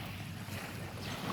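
Wind and sea waves wash along the shore by a lighthouse in Tagbibi, Leyte, a soft, steady rushing hiss with low rumbling and a gentle swell near the end, fairly faint and with no voices.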